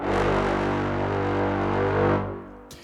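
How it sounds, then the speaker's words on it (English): A massive low brass patch from Cinebrass Pro by Cinesamples sounds as one sustained, thick, loud chord for about two seconds before fading out, with no voices. "which is a monster low brass patch from Cinebrass Pro"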